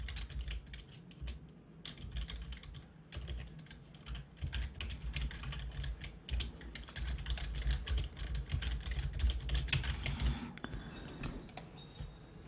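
Steady, fairly close typing on a computer keyboard as names are entered, a continuous patter of key clicks with no talk.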